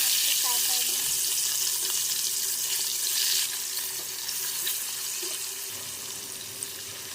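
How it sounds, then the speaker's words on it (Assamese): Fish frying in hot oil, a loud, dense, steady sizzle that eases slightly partway through, with faint clatter underneath. "মাছখিনি ভাজি ল'লোঁ।"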